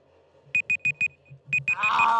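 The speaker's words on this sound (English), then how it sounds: "This isn't a time for alarms." An electronic alarm goes off during a WWE SmackDown broadcast, sounding as a quick run of evenly spaced, bright, piercing beeps with a short gap midway, ending in a burst of broad noise.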